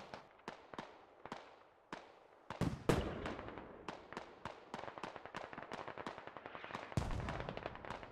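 Mortar artillery fire in the tactical shooter Squad: a series of sharp, distant booming reports, spaced at first and then crowding into a rapid, overlapping volley with a few heavier blasts.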